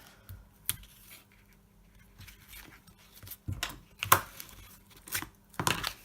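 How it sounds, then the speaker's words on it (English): Tape is torn and pressed onto a small craft box in a few sharp, close rips and crinkles spaced across a quiet room, with brief handling noises between them. "put a bit of tape down the middle"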